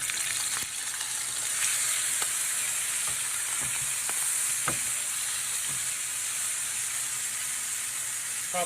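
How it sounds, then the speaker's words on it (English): A porterhouse steak searing in a smoking hot pan with canola oil gives off a loud, dense, continuous sizzle and hiss close up, with faint pops and ticks scattered through, no talk. "Probably going to sear it 4 minutes on one side, 4 minutes on the other"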